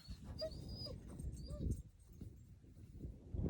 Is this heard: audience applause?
no